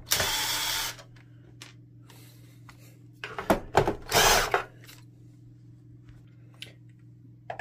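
Screw being worked out of an Epson R260 printer housing with a screwdriver: close, brief bursts of scraping and handling noise, one at the start and a cluster midway, over a low steady hum and otherwise quiet.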